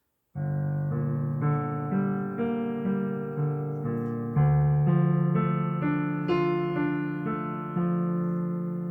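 A single piano plays a slow melody, one note after another with sustained ringing tones, clear and alone.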